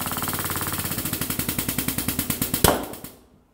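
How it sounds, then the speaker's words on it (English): A DF-SPR BRAD pneumatic blind rivet tool cycles rapidly, a fast train of about two dozen sharp mechanical pulses that build and then end in a louder snap as the rivet sets, followed by a brief hiss. "Put your blind rivet into the hole,"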